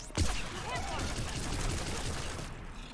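Rapid gunfire from the player's main weapon during combat in the Mass Effect 3 video game, a dense continuous burst of shots lasting nearly three seconds, with a voice talking over it.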